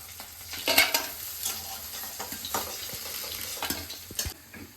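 Puti fish frying in oil in a pan, a steady close sizzle with crackles and a few scraping stirs, no talking.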